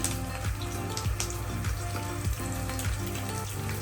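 Curry leaves sizzling in hot oil, a close bubbling hiss with a few sharper pops over a steady low hum, no one speaking.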